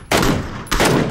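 Gunfire in the video game PlayerUnknown's Battlegrounds comes as two loud, close bursts of rapid shots separated by a short gap.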